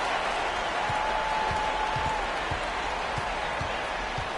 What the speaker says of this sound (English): Listen to the crowd. They are loud.